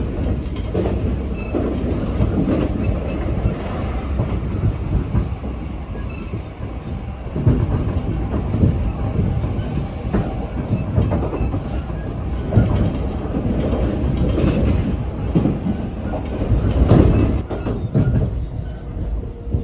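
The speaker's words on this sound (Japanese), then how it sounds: "列車はノンストップで走り続け、準急の最初の停車駅河内松原に到着です。" Kintetsu semi-express train bound for Gose running nonstop after crossing the Yamato River into Matsubara, heard from inside as a steady loud rumble with rhythmic clickety-clack of wheels over rail joints and occasional faint squeals, no talk.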